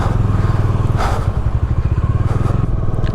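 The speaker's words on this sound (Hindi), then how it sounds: "सुबह सुबह बाइक चलाने का मज़ा आ रहा है" A motorbike rides along a mountain road in the Spiti valley between Chitkul and Nako, its engine a steady close throbbing drone with a brief wind gust midway and no talk.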